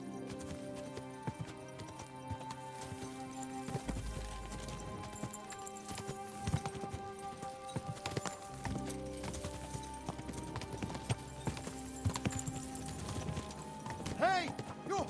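Horse hooves clip-clop at a steady trot while riding in Kingdom Come: Deliverance II, mixed under game music and ambient sounds, with a voice talking over parts.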